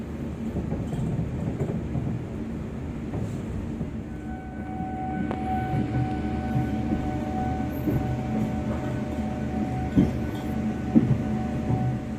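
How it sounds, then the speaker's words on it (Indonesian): A railway locomotive moves along the track as a low, steady rumble that rises slightly midway, with an occasional faint tonal whine and a few soft knocks near the end. "Nah ini lokomotifnya yang tadi ya"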